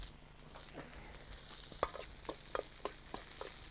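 Cajun chicken pineapple salsa ingredients being stirred together in a large bowl, with a series of soft, close scraping and clicking taps against steady low background noise, no voices.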